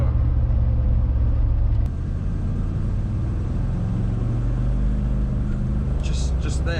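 A twin-turbo 4.6 V8 Range Rover P38 running on LPG pulls under light, feathered throttle with a steady low engine drone heard from inside the cabin, with people talking over it.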